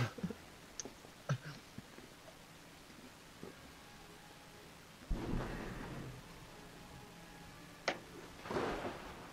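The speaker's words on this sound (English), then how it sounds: "Oh, the thunder or lightning." Thunder in the Golf With Your Friends video game gives two rolling rumbles, one near the middle and one near the end, over quiet rain-like hiss and a few sharp clicks, with no talk.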